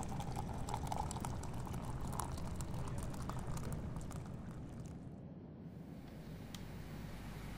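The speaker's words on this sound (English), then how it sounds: "I'll pour you a cup right now." Hot coffee streams steadily into a cup in an ASMR flight attendant role play, a continuous gurgling liquid pour close to the ear that tapers toward the end with no talking.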